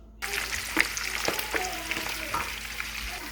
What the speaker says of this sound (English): Once my oil is preheated enough, I then proceed to fry the smoked fish.